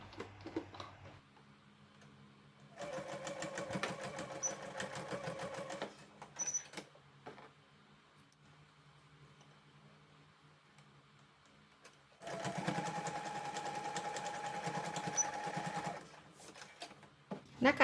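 Sewing machine stitching a large fabric face mask, two steady runs of close, rapid mechanical clatter separated by a quieter stretch of handling noise.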